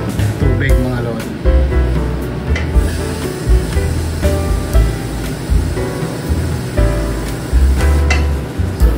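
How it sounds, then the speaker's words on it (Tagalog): Water poured into a cooking pot while making dinuguan, a splashing, gurgling pour in uneven bursts close to the microphone, with some clinking and rubbing in the kitchen. "so dadagdagan pa natin ito na uli ng tubig"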